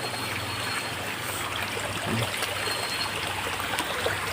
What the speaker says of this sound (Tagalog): wa may ka atraka sa sapa kay kusog ang tubig